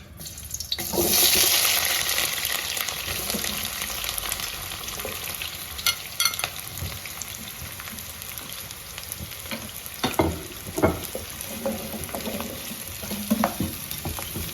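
About six medium chopped onions frying in hot oil for a tomato chutney, a strong sizzle bursting up as they hit the pan, then steady frying with stirring and clatter, close by with no talking.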